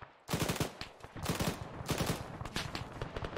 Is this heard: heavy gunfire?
yes